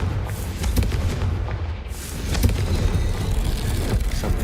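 Confringo blasting spell explosions in the Hogwarts Legacy video game, a dense, loud barrage of booming blasts and crackling impacts that continues without a break.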